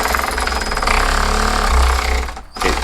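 A worn ratchet spinning, with wear on its rotating cam shaft: a loud, steady mechanical rattle and buzz close by, cutting out briefly near the end before it starts again.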